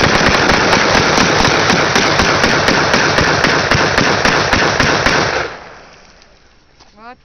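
AR-15 rifles fired at a pond: very loud, dense rapid strings of shots for about five seconds, closely spaced cracks blending together, then cut off into a fading echo.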